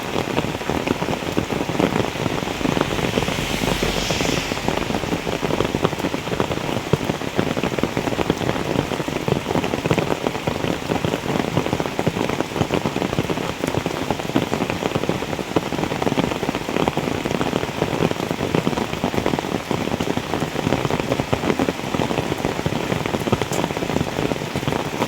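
Steady rain falling in a forest, a dense, even patter of drops on leaves and surfaces lasting throughout with no pauses and no voices.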